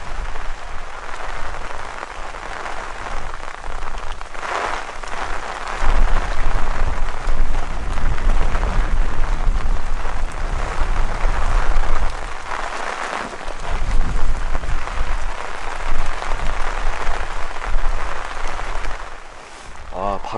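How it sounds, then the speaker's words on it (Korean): Wind and heavy rain at a fishing spot on a Ganghwa Island canal, with steady loud rain and gusts that swell and ease in waves, close to the microphone. "바람이 점점 더 심해지고 있습니다 비도 더 많이 내리고"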